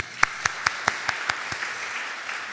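Clapping at a Korean church revival meeting for the middle and high school youth group: a handful of sharp, evenly spaced claps close by, fading into a thin patter.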